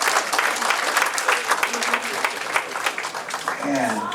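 Audience applause for award winners at a New Year business gathering, steady dense clapping throughout with a voice briefly heard near the end.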